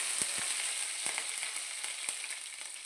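Curry leaves dropped into hot oil crackle and sizzle in a brief close burst, a soft steady hiss dotted with a few distinct pops.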